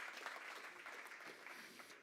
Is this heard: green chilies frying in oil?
no